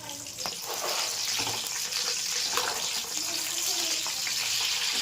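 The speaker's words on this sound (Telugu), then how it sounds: "బిర్యానీ మసాలా పచ్చిమిర్చి పచ్చివాసన పోయేంత వరకు వేయించుకొని" Slit green chillies and biryani masala fry in hot oil for chicken biryani, giving a loud, continuous sizzling crackle that holds steady throughout.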